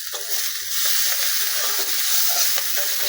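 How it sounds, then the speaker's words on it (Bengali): Green beans frying in a pan at home, a steady close sizzle and hiss that swells slightly after the first second, with no talk over it. "শিম ভাজছে।"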